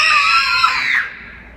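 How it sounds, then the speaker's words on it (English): A crowd of children at a pop-up play zone shriek together on cue, a loud, sustained high-pitched scream lasting over a second before tapering off abruptly. "When I hold this sign up, I want everyone to scream"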